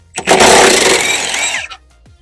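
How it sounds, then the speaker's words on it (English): A power tool, likely an impact wrench, runs in one loud continuous burst of about a second and a half while removing 15mm bolts from a Ford Fiesta rear axle, then stops, leaving near silence. "So next up we're going to be taking these 3 15mm bolts out."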